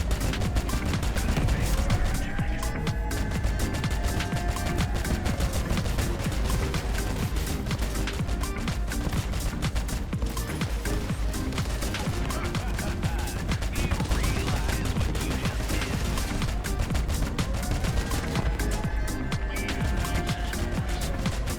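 Starfalls weapons firing in the vehicle combat game Crossout, a dense, constant loud barrage of mechanical clanking and crashing gunfire that runs without pause, with whirring tones rising and falling at intervals.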